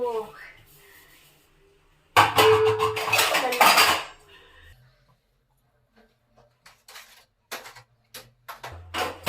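Steel kitchen pots and vessels being arranged, starting with a loud burst of clattering and clanging metal, then a pause, then scattered sharper clinks and knocks of vessels set in place, with some voice in the background.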